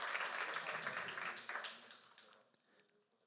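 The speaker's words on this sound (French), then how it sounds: "je pense qu'on peut les applaudir" Applause from the audience at the annual VIF Réunion 2024 colloquium: many hands clapping at first, then thinning and fading to a few scattered claps before dying out.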